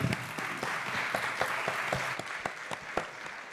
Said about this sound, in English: let's give a round of applause for Sabina